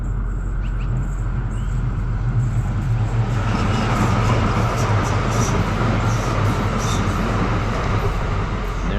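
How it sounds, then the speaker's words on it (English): An LRT train rumbles past at close range over a bridge in winter in Calgary, a loud continuous roar of wheels on track with a faint metallic squeal rising midway. "it's also an LRT train bridge. And as my luck would have it, here comes the train."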